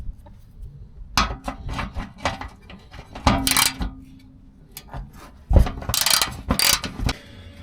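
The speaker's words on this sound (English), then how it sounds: "make sure to use a 10mm wrench to remove these two bolts" Close metallic clicks and ratcheting of a 10mm wrench loosening the access plate bolts under a 2006 Nissan Frontier, coming in short irregular bursts with small clanks and scrapes between them.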